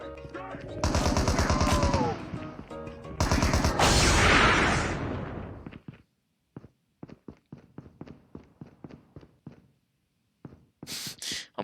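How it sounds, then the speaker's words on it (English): Automatic gunfire crackles in a Call of Duty Isolated Royale match as zombies are gunned down, with dense loud bursts early on giving way to a string of sharp, separate shots and brief pauses. "He's shooting all the zombies."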